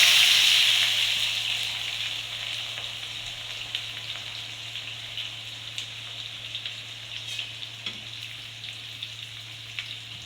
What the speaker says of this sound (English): While the onion is being fried,